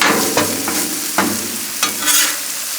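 Cheesesteak meat frying on a Blackstone griddle gives a steady close sizzle, broken by a few sharp scraping stirs of a spatula, with no talking.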